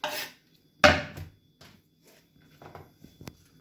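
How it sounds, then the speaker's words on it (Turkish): Fresh green onions being chopped on a board, a few sharp knife strikes separated by pauses, close and crisp, followed by lighter scattered taps. "Taze soğanlarımızı doğruyoruz."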